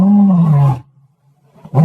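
A lion roar sound effect: one loud, close, deep roar that fades out, then a second roar starts right at the end.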